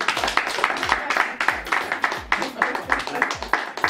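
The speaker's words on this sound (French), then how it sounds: "applaudissez pour lui" An audience claps in a fast, regular rhythm, crisp sharp beats repeating about twice a second, with a voice talking over the clapping throughout.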